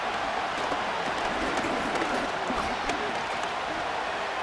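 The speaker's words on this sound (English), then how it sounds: "The crowd cranking it up another notch before 3rd" A steady, dense roar of a stadium crowd cheering in the video game Madden NFL 25 during an NFL matchup, continuous and loud with no break.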